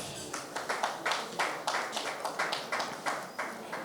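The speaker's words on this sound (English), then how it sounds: "Please, can we give her a round of applause?" An audience at a launch event claps steadily, a fairly faint, even patter of hand claps from a modest crowd with no voices over it.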